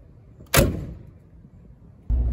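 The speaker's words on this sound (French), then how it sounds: "on va claquer le capot pour avoir ce bruit métallique caractéristique" A single heavy metallic slam of a 1989 Mercedes 300 SEL hood shutting rings out and decays, followed near the end by another solid thud, close up with no talking.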